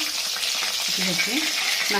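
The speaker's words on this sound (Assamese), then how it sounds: "তেল গৰম হ'ল, মাছ পেলাই দিছোঁ।" Chital fish frying in hot oil in a wok gives a loud, steady sizzle throughout, with a voice speaking faintly underneath.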